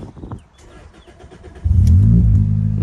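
A Toyota Celica GT-S engine catches and settles into a loud, steady idle after a few seconds of quiet shuffling and handling noises, close to the car.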